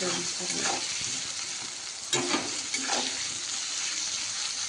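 Brinjal frying in a pan with salt and turmeric gives a dense, even sizzle, with a couple of brief clinks and stirring scrapes partway through.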